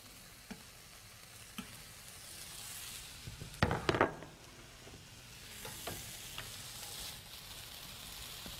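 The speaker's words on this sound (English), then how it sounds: "I love using the thick-cut bacon when I can. And I'm just going to get that frying." Steady, soft sizzling of thick-cut bacon frying in a pan, with a brief clatter of stirring midway and a few light knocks, no voices.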